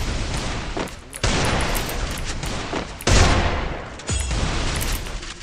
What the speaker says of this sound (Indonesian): Okay, tembakan tempat kepala oleh Larry di situ.